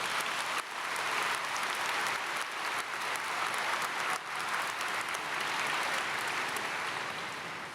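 Steady, broad applause fills a college graduation ceremony hall, continuous and even for several seconds with slight surges before tapering off.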